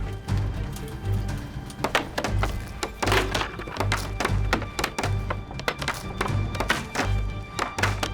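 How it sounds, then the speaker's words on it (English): Rioters in 1840s West Wales smash wooden toll gates. Heavy wooden thunks and thuds repeat loud and close in a rough rhythm, with crashing impacts throughout. "they smashed toll gates"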